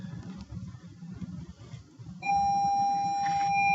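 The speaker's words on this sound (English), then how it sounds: "That's the 6th period bell." A school's sixth-period bell rings out, a steady sustained electronic tone that cuts in abruptly after a few seconds of quiet room noise and holds loud until the end.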